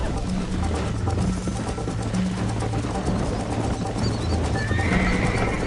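Horses gallop hard in a Red Dead Redemption race, hooves clip-clopping in a steady drumming rhythm close by while a horse whinnies and neighs over the pounding.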